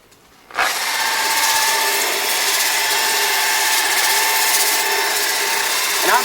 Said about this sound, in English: I'm just letting the weight of the tool strip this stuff off.